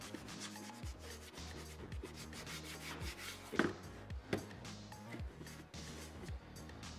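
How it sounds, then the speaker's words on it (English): Steady rubbing across the surface of a Scout Trooper helmet prop, close and continuous with a rough, repetitive scrubbing texture, a couple of sharper knocks partway through, and no talking. "give them a proper rub to the helmet"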